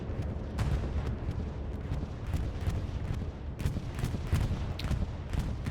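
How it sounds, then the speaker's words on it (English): A bombing run sweeps across a strong point in the World War II shooter Hell Let Loose: a dense, rolling rumble punctuated by repeated sharp blasts, continuous and heavy for the whole stretch. "Bombing run coming across the southern part of strong point, just missing the spawn wave"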